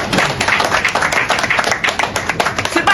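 A crowd claps and applauds for Jean-Jacques Dessalines, a dense, loud, continuous patter of many hands close by that runs throughout.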